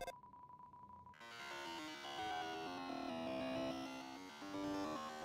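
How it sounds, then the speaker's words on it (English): A video game fax machine sound starts with a steady beep, then gives way to a dense, warbling cacophony of screeching, shifting electronic tones that carries on loud and alone for several seconds. "It's a fax machine."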